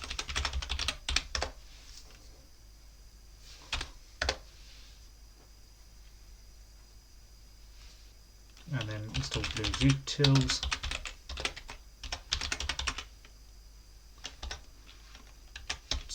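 Bursts of close keyboard typing with pauses between them, while a person speaks briefly partway through.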